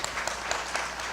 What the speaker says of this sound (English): let's give him a warm round of applause again